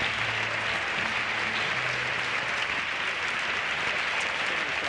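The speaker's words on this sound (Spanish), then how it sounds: "Un aplauso para los dos." Dense, steady audience applause in a studio for two record-attempt performers, loud and continuous with no talking.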